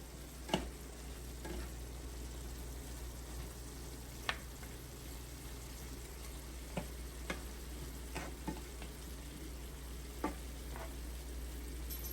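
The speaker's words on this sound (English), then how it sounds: "I'm gonna just saute them together." Ingredients for Jamaican-style escoveitch fish sauté in a pan, giving a steady, even sizzle with occasional soft stirring taps, low in level and with no voices.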